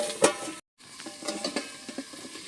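Taro stolons stirred in a frying pan with salt, turmeric and chili powder, a sharp clatter as the lid comes off, then a pause and a run of soft scraping stirs over a low sizzle.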